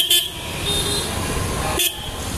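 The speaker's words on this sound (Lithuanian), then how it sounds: "Pypsi visi, nes filmuoju." Car horns toot twice in street traffic, short bright honks at the start and near the end over steady road noise, heard while riding on a motorbike.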